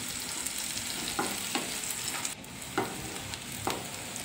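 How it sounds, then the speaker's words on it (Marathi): Garlic, curry leaves, onion and green chili fry in hot oil for an aloo paratha filling, giving a soft, steady sizzle broken by a few brief stirring scrapes, with no voices. "सर्व तेलामध्ये आपल्याला फ्राय करून घ्यायचं आहे।"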